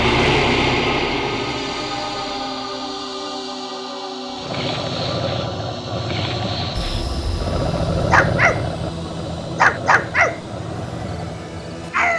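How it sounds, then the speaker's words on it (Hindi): A pet dog in a Hindi cartoon barks loudly in a few sharp, spaced bursts toward the end, following a low rumbling drone and a sudden shift in the background sound. "मेरा पालतू कुत्ता भोलू इस तरह क्यों चिल्ला रहा है?"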